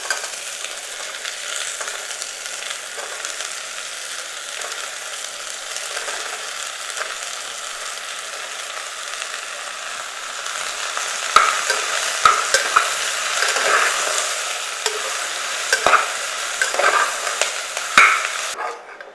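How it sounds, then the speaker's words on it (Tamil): Bottle gourd and onion sautéing in a pan give a steady, loud sizzle throughout, with a spatula stirring and scraping intermittently in the second half, and no talking. "இப்போ காய் வதங்கிட்டுருக்கு."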